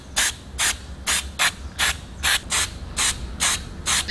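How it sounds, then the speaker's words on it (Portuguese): Black spray paint hisses from an aerosol can over a thick coat of white Plastidip, released in about ten short, evenly spaced bursts that are close and fairly loud, with no voices. "agora então a gente vai aplicar a tinta spray preta"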